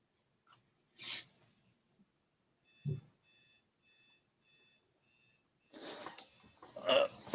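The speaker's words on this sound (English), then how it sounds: "Already got my alarm's going off for some reason." An alarm going off during a podcast, a series of evenly spaced electronic beeps repeating about once per second at moderate volume, with a thud and scattered rustling before it and a louder burst of noise as it ends.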